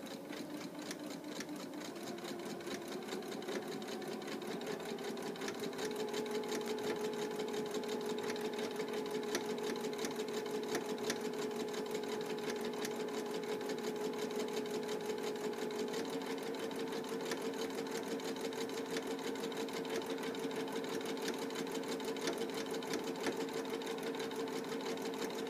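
A sewing machine stitches a fabric seam in a steady, continuous whir with a fine rapid rhythmic chatter and a faint motor hum, running evenly at moderate volume for the whole stretch.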